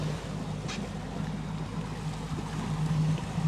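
A motorboat water taxi runs on the water near a rowing race course at Saint-Malo, a steady low engine drone holding throughout against a background of wind and lapping water.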